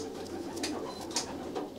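Racing pigeons in a loft cooing softly, a few low repeated coos over a faint background hum, near and fairly quiet, no talk.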